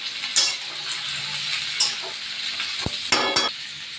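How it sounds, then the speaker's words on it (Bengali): Vegetables sizzle with salt in a hot pan, a steady frying hiss broken by a few sharp stirring scrapes and clinks of a utensil. "এবার নুন দিয়ে সবজিগুলো একটু ভেজে নিই"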